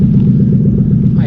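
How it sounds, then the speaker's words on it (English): A very loud race car engine idling and revving nearby, a heavy low rumble with a throbbing pulse that stays strong and steady throughout. "the owner's son is working on his car. It's a race car, and it's very, very loud"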